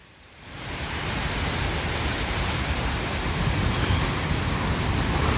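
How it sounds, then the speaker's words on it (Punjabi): Heavy rain in a storm in Sri Ganganagar, Rajasthan, pours down in a dense, steady hiss that rises after a brief quiet start and holds loud and constant. "ਬਹੁਤ ਭਾਰੀ ਬਾਰਿਸ਼ ਜ਼ੋਰ ਸ਼ੋਰ ਦੀ"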